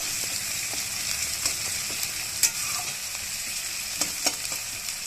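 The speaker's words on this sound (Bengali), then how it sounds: "পেঁয়াজটা আমি একটু ব্রাউন লাল লাল করে ভেজে নেব।" Onions frying in oil on the way to browning, a steady close sizzle with scattered clicks and scrapes of stirring, no voices.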